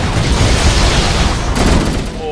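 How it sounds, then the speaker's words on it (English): Explosions and gunfire in Halo: Combat Evolved as grunts throw grenades, a dense, loud, continuous barrage of booms and blasts with a fresh burst near the end. "Oh, explosions right off the bat."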